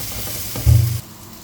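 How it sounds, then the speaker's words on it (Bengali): Chopped onions hit hot oil in a pan for a Bengali bharta, giving a short loud sizzling burst close by, without voices. "আর এখানে ভর্তার জন্য পেঁয়াজটা ভাজতে নিব।"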